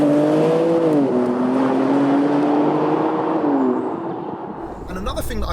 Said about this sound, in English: it's got that very unique BMW straight six sound to it